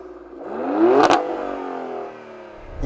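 Maserati Grecale Trofeo exhaust heard from outside as the engine revs up in a single rising sweep, peaks with a sharp crackle, then falls back to idle, loud and close.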